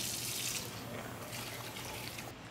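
Water pours steadily from a tap into a cooking pot holding squidball sauce with chili powder, smoked paprika and oyster sauce; a close, continuous running splash with no talk.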